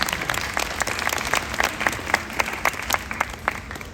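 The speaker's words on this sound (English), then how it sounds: "I say we give Catherine a big round of applause for breaking glass." An audience at a glass factory museum demonstration applauds steadily, with dense, close handclaps and a few sharper individual claps running the whole time, no voices on top.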